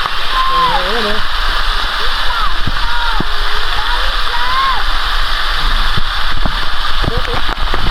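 Water splashes and churns continuously at a clear freshwater spring, a loud steady rush up close with people talking and calling out over it.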